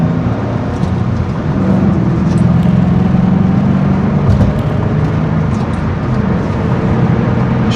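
A 2008 Ford Mustang GT Bullitt on a test drive gives a loud, steady low rumble of engine and road noise heard from inside. It swells slightly midway, with no voices over it.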